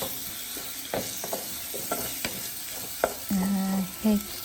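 Oil heats in a home cooking pan with a steady, close crackling sizzle, broken by a few sharp clicks and scrapes of stirring and short low humming tones near the end.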